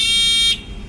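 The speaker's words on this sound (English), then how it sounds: "This is a buzzer, and inside of this buzzer we have a crystal, piezoelectric, we call it." A battery-powered piezoelectric buzzer with a vibrating crystal inside sounds a loud, steady high-pitched tone at close range, then cuts off abruptly about halfway through, leaving only quiet room noise.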